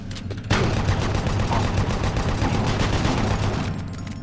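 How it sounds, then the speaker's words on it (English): A Gatling gun in Doom 3 opens fire abruptly and sprays a sustained, rapid stream of loud shots for several seconds, the burst tapering slightly near the end. "I'm gonna use the Gatling gun"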